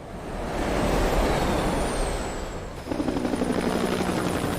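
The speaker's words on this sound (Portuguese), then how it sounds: "ainda tem helicóptero ainda" Helicopter in the video game Max Payne 3, its rotor roar swelling up close, then a rhythmic chopping thump from the blades.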